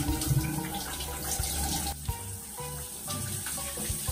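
A tap runs water into a small container before a gentian violet mixture is made, a steady splashing fill of about four seconds, close and fairly loud, with brief clinks around the midpoint.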